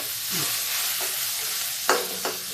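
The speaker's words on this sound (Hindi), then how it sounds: "अब इसको थोड़ा सा ही फ्राई करेंगे" A broad, steady sizzle of cumin, garlic, chilli and soaked chana dal frying in hot oil, with a few louder scrapes of stirring cutting through.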